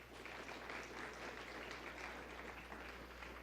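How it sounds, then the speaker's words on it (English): Audience applause at a university in-service training session on advocacy and health, a steady, dense wash of clapping held at a moderate distance for several seconds with no voices over it. "How about a round of applause for that?"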